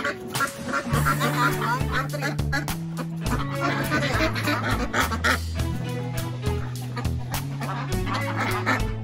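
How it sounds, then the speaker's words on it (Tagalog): Pekin ducks quack loudly and repeatedly in a dense chorus of overlapping honking calls, close by and continuous throughout. "ready to breed na din po itong ating pong mga Peking duck."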